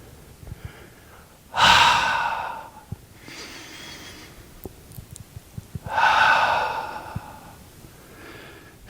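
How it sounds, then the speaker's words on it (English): Two deep, audible breaths during a tai chi and qigong exercise for seniors and beginners, each a long airy inhale-exhale rising and fading, separated by quiet pauses with faint clicks and rustles. "Exhale, inhale, breathing out"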